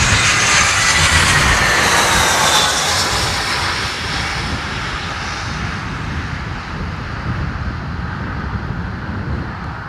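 Airbus A320neo airliner at London Heathrow, a steady loud jet engine roar with a faint rising whine early on that slowly fades over about ten seconds, heard alone.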